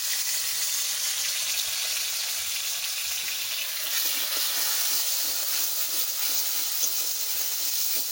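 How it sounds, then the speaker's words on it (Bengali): Spice paste for a Bengali-style duck curry fries steadily in hot oil, a dense, even sizzle and hiss that holds at the same close, moderate level throughout with no voices. "মশলাটা একটু ভালো করে ভেজে নিচ্ছি।"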